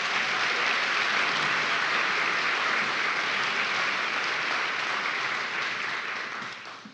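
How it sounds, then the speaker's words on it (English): A theatre audience at a Broadway benefit concert gives sustained, even applause, loud and full, easing off slightly toward the end. "Give a round of applause for Frank Mastrone."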